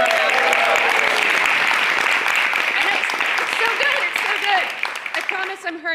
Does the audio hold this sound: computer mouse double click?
no